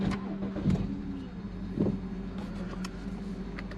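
A BMW E90 325xi engine starts, with a couple of short surges before settling into a steady low idle hum, heard nearby with no talk.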